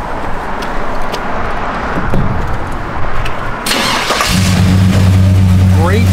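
A 1955 Ford F100 pickup truck engine cranks and fires up, settling into a loud, steady, low rumbling idle after a few seconds of background noise and movement.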